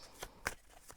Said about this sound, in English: I'm going to shuffle a bit more